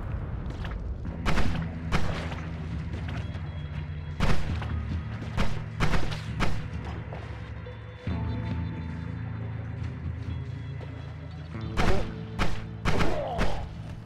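Repeated heavy booms and thuds of explosions in the video game Noita, loud and close, burst out at irregular intervals over a constant low mechanical hum.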